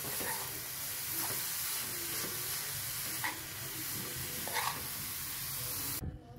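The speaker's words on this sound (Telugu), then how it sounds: "ఒకసారి ఇట్లా మంచిగా కలుపుకోవాలండి" Raw papaya curry is stirred in a pan after adding turmeric and salt, giving a steady close sizzle with occasional soft scraping scrapes of the spoon, no talking.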